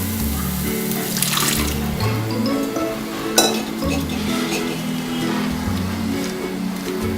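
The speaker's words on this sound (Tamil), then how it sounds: "தண்ணியோடய ஊற்றிடுங்க." Water pours and splashes steadily into a cooking pan of paneer bhurji gravy, with occasional clinks of utensils and a low background hum.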